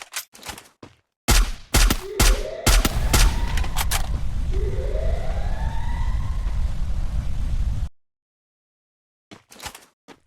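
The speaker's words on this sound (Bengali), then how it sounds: "এখন গাড়িটি গুলি করে ফাটানো যাক" Rapid bursts of video-game gunfire crack out in volleys at a car, overlapped by a rising and falling siren wail, then cut to silence before a few final shots.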